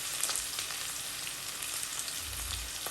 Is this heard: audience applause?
no